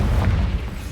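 Confringo spell explosion in Hogwarts Legacy, a single loud low boom with a rumbling tail, close and filling the whole moment.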